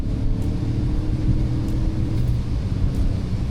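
Kia Sonet HTK (O) iMT compact SUV with a turbo petrol engine rated 118 bhp, revving hard toward its 6,500 rpm redline, a loud, sustained engine roar heard close from inside the cabin.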